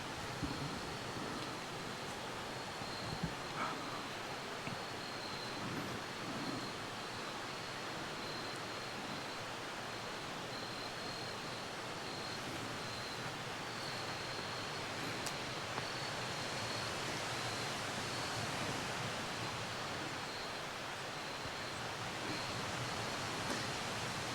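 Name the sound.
high creek water rushing outdoors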